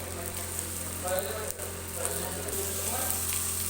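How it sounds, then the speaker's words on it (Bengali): Tomatoes tipped into a frying pan with turmeric and dried chilli, giving a steady close sizzle and hiss of frying through the whole stretch, with faint stirring. "এবার টমেটোটা দিয়ে দেবো"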